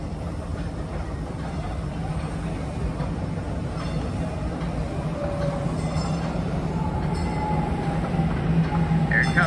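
A DART light-rail train pulls into an underground subway station at City Place in Dallas, a loud, steady rumble and roar of wheels on track with faint high squeals and whines, filling the whole stretch.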